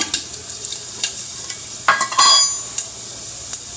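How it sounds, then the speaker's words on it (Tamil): Fenugreek seeds hit a small amount of hot oil for rasam, giving a light crackling sizzle with scattered sharp pops and clinks of a spoon against the pan, close and fairly loud. "கொஞ்சமாக எண்ணெய் ஊற்றிட்டு எண்ணெய் போட்டு கொஞ்சம் வெந்தயம்"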